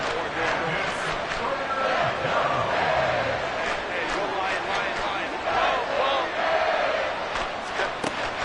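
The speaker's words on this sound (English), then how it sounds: "This crowd turning up the decibel level." Football stadium crowd roaring on 3rd and long as the home fans get loud, a dense, sustained wall of cheering with bursts and swells throughout, under fast play-by-play talk from a broadcaster.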